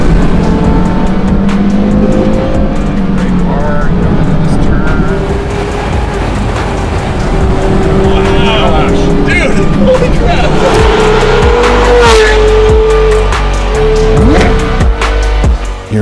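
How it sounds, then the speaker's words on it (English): A 2005 Porsche Carrera GT supercar drives hard on city roads around Salt Lake City, its engine rising and falling loudly through gear changes for the whole stretch, with brief tire noise. "My new to me 2005 Porsche Carrera GT."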